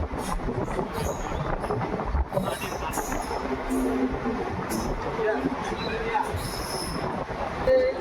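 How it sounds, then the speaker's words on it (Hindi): Runicha Express train pulling out of Nawa City railway station, a continuous rumbling roll of wheels and carriages with faint squeals, heard steadily from on board. "तो 2 मिनट रुकने के बाद ट्रेन डिपार्चर हो रही है नावा सिटी रेलवे स्टेशन से"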